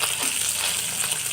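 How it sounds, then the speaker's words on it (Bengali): Fish frying in hot oil in a pan gives a continuous, dense hiss and crackle, close and fairly loud, with no voices over it. "মাছটা আমার প্রায় ভাজা হয়ে গেছে"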